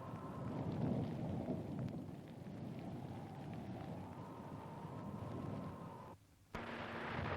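Heavy rain pours steadily on an expedition camp at Birdsville in outback Australia. A low, continuous wash of rain blends with deep rumbling thunder, then cuts briefly and resumes.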